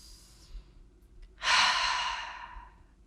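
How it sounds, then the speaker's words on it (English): A deep breath during a restorative exercise class: after a quiet stretch, a long, breathy exhale swells up close and fades gradually over about a second and a half. "take a full breath in and out"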